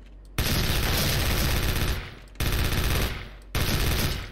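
Sustained automatic gunfire in the shooter game Special Force, with dual KRISS submachine guns firing loud, dense bursts, three long volleys separated by brief pauses, close and continuous.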